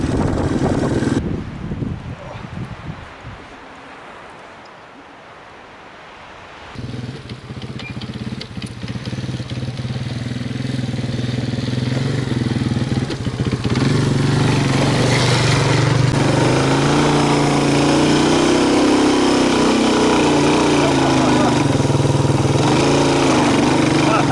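A Yamaha 225DX three-wheeler ATV engine runs steadily on a trail, revving up and droning loudly close to the microphone, with wind buffeting and brief talk over the engine noise.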